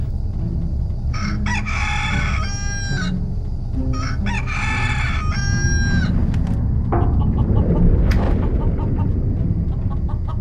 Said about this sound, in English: Hey, here's the rooster I smuggled on board.